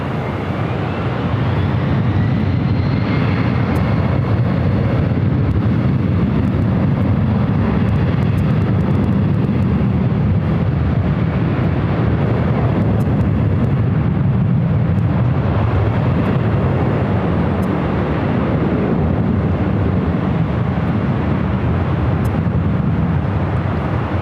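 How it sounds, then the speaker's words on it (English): A Boeing 777 takes off at LAX, its engines a loud, sustained low roar with a rising whine, heard from nearby and steady throughout, with no talking. "777 also heading up for a north side takeoff."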